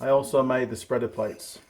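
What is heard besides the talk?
No everyday noises stand out.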